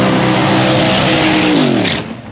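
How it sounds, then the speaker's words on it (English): Modified rear-engine altered dragster, a T-bucket fitted with a new ProCharger-supercharged motor, revs loud and close with a harsh roar whose pitch climbs and then drops off as the throttle is released. "It's just a rear engine dragster."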